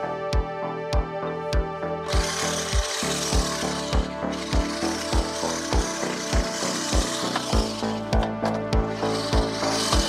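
A Scotts Elite 16-inch reel mower, model 415-16S, mows and mulches dry leaves with a steady rhythmic clicking and whirring of its spinning blades, close and continuous with regular ratcheting pulses throughout.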